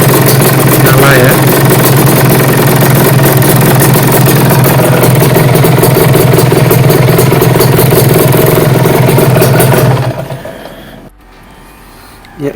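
A Kawasaki Ninja motorcycle idling nearby, a loud steady engine rumble that holds evenly for about ten seconds and then cuts off, leaving near quiet.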